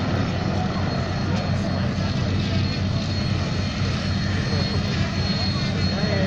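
A CAC Boomerang, a World War II Australian fighter, flies at the 2019 Edinburgh, South Australia air show. Its engine gives a loud, steady, broadband roar that holds evenly throughout.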